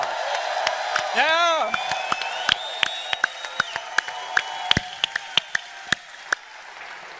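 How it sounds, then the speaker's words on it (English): An audience breaks into a round of applause with cheers, whoops and a rising whistle, then the clapping thins out into scattered individual claps while a voice speaks briefly. "let's give them a round of applause"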